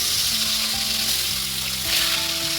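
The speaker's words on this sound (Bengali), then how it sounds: "মাছগুলো এবার আমি দিয়ে দেবো।" Katla fish pieces fry in hot oil with radhuni seeds, giving off a loud, steady, close sizzle with faint music playing underneath.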